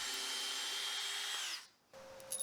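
Power drill running steadily with a 1/4 inch bit boring into wood, a close whining hum that winds down after about a second and a half, then a brief restart at a different pitch.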